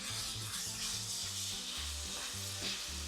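Ground meat sears in a pot for a one-pot cheesy taco pasta, giving a continuous close, bright sizzle with low music playing underneath and no talking.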